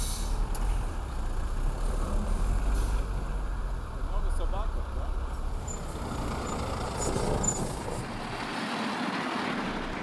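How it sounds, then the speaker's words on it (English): Garbage trucks hauling waste in a Russian town rumble past with engine drone and hissing air brakes, a steady loud traffic noise with a brief low-end dropout near the end. "the garbage trucks just keep coming"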